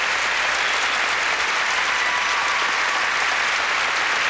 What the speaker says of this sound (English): the fans continue to applaud Todd Eldridge of the United States